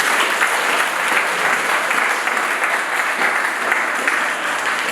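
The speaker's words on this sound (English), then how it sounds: "let's give a round of applause for this children" Dense, loud applause from parents and audience at a Year 5 school assembly honouring the children, an unbroken wash of clapping at constant level for the whole stretch.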